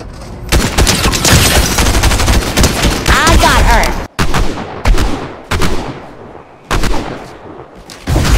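A tank fires in the video game Fortnite: loud, rapid bursts of gunfire and booming blasts follow one another with brief gaps between the volleys.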